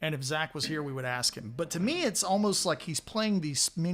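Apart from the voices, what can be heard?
No distinct noise like a dog, phone or traffic.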